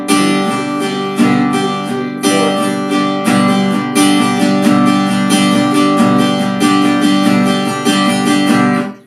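Guitar strummed in an even alternating down-up pattern with accents on the upstrokes, a loud, close, steady rhythm of ringing chords with no voices.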